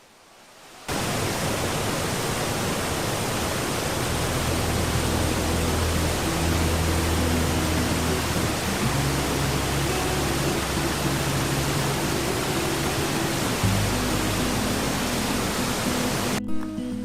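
Arrikal waterfall in Kerala roars with rushing water, a loud, dense and unbroken wash of sound lasting the whole time, heard alone without voices.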